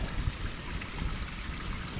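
Rainwater trickles and gurgles along a small bush watercourse feeding a creek, a close, steady wash of running water filling the whole moment with no voices.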